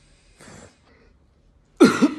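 A woman recovering in hospital after a hemorrhage and hysterectomy gives two short coughs: a faint, breathy one first, then after a pause a louder, harsher cough close to the microphone.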